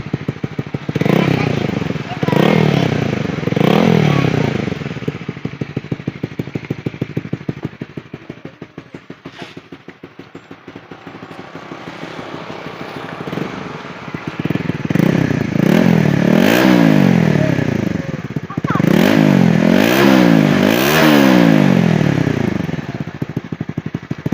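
A motorcycle fitted with a Yoshimura R11 twin-outlet exhaust revs up repeatedly, with a loud close engine note rising and falling, a quieter idle in the middle and a run of hard revs near the end, and voices speak over it at times.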